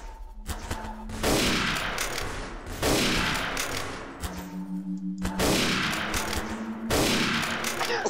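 Heavy gunfire in the video game Garry's Mod, repeated booming shots and sustained bursts arriving every second or two, loud and close, with a voice faintly underneath.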